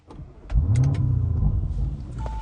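A car engine cranks and catches, then settles into a loud, close rumbling idle with uneven revving, with a few clicks at the start and the deep throb continuing to the end.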